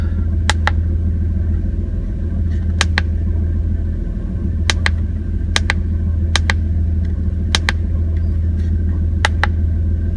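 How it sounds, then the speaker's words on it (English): A 2003 Jeep Liberty engine idles roughly and steadily, a continuous low rumble with a faint uneven quality and repeated sharp ticks punctuating it throughout. "The idle's still a bit rough"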